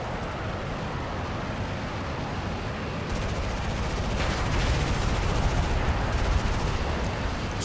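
Steady bursts of machine-gun fire in an aerial combat video game, a dense, loud, continuous rattle that grows heavier partway through, with no talk.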